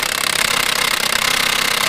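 A big impact wrench hammers continuously on the pitman arm of a Chevy/GMC truck front end, giving a loud, rapid metallic rattle throughout.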